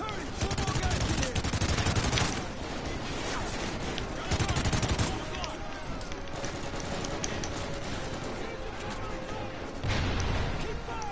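Rapid bursts of video game gunfire, fusillades and machine-gun rattle, loud and sustained, with heavier volleys near the start, middle and end.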